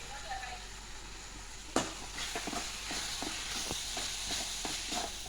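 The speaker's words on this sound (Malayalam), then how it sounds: "നല്ലോണം ഒന്ന് മിക്സ് ചെയ്യട്ടെ കേട്ടോ" Biryani masala and chilli powder are stirred in a hot pan, with a soft steady sizzle under a series of light scraping and tapping strokes from the spoon, quiet and close.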